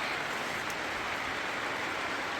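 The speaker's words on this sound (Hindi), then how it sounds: "बाहर लगी है बरसात" Steady rain falls outside a mountain shelter on the Shrikhand Mahadev Kailash trek, a constant soft hiss with no voices and nothing breaking through it.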